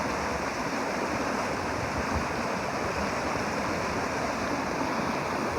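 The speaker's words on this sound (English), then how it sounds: "I love the rush of the water." Steady, loud broadband rush of water pouring down Spectacle E'e Falls near an old mill ruin, continuous and close with no pauses.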